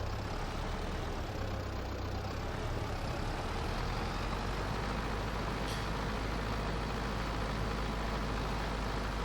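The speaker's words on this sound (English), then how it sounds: "Let's get our tractor straightened out." A tractor engine in the video game Farming Simulator 22 drones steadily at a low rumble, constant and unbroken, without talk.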